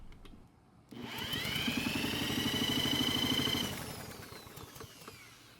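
Troy-Bilt lawn mower engine turned over by a power drill on the flywheel nut during a compression test, a whining drill with a rapid rhythmic chugging that rises, holds for a few seconds, then winds down.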